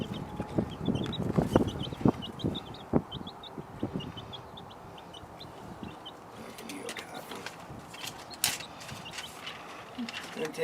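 Newly acquired chickens cluck in a steady run of short, soft calls at moderate distance, with scattered knocks and handling noises and some talk nearby.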